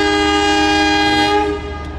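A Lokal Bandung Raya local train passes close by under a high-speed rail bridge, its horn sounding as a loud sustained harmonic blast over rumbling wheels, fading slightly near the end.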